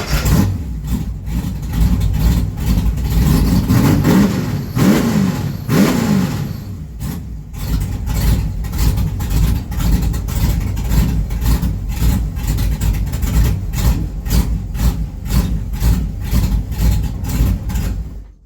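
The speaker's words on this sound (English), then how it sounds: "just to give you a better sense about the engine running, maybe it'll work for a second or two, and then it might shut off again" A Trooper car engine running at cold idle, loud and close, with the idle surging and fading unevenly as it struggles to keep running, then a stretch of rapid, rhythmic pulsing.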